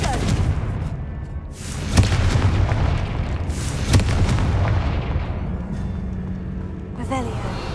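A Confringo blasting spell in Hogwarts Legacy, sharp booming blasts bursting about every two seconds over a dense rumbling background, loud and close, with a faint crackle at the end.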